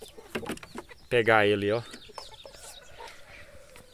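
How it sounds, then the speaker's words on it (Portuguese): A hen clucks loudly up close for a moment, between bits of someone talking nearby. "Os galinhas aqui já tá de olho querendo"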